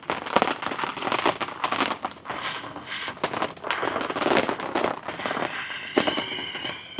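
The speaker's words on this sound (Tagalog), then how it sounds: "Tuloy-tuloy pa rin yung ulan." Steady rain patters and crackles on a surface close by at a campsite, a dense, continuous hiss with irregular drops.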